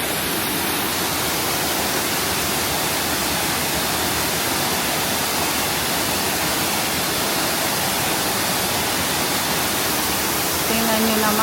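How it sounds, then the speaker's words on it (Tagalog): Waterfall on a hiking trail, reached by motorcycle, roaring as a steady broadband wash of falling water that fills the whole stretch at a close, even level with no breaks. "Ang ganda ng waterfall."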